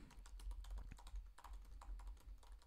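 Someone types steadily on a computer keyboard, with close, quick key clicks in an uneven rhythm and no talking.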